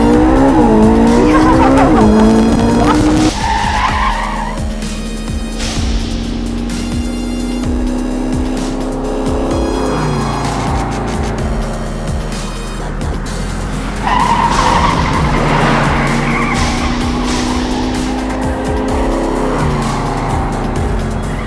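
A Ferrari sports car driven hard and fast, engine loud and close as the revs climb and drop, with tires squealing and skidding through turns over a continuous roaring drive.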